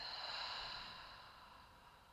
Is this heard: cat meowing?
no